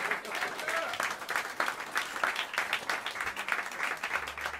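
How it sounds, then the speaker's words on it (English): Jazz club audience at Smalls in New York City applauding the bassist at a live quartet show; steady, dense clapping from a nearby crowd throughout, with a few voices mixed in. "Please help me welcome them to the stage, as I mentioned their names, with some warm applause"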